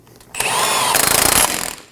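A power tool whirs loudly for about a second while snugging an axle nut onto a front steering knuckle of a 2008-2015 Scion xB, its motor buzzing steadily with a rattling, pulsing edge before cutting off.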